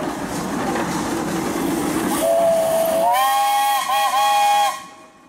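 A steam traction engine's whistle blows loud and close for about two seconds, a steady shrill tone that cuts off cleanly, following the 18-horsepower engine's rumbling and hissing, at a pioneer engineers parade.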